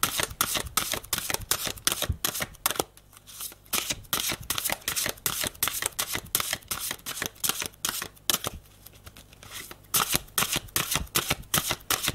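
Tarot cards shuffled for a spiritual reading, a fast close series of crisp riffling and flicking bursts with brief pauses, with no speech.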